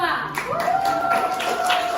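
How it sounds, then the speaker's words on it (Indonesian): A class applauds a student presentation group, with scattered clapping through most of the short stretch and voices and a sustained tone running over it. "tepuk tangan buat kelompok 2"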